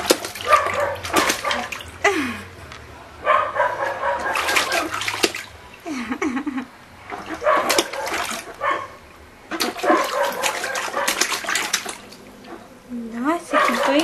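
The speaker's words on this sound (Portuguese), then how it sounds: "Ai, que delícia de banho, né?" Water sloshes and splashes in a deep ofuro soaking tub in repeated bursts, close and lively, while people talk and laugh over it.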